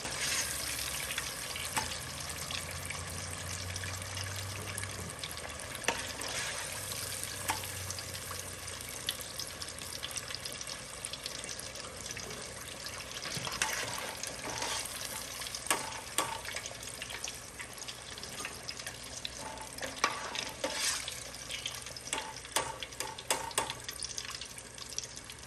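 Baby back ribs deep fry in hot oil, giving a steady, dense sizzle and crackle that runs on for the whole stretch with no pauses.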